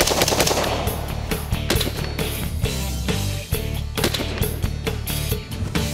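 Springfield Armory SAINT Edge rifle with a muzzle brake firing a fast string of sharp, loud shots in rapid rhythm, close to the microphone, with no talking.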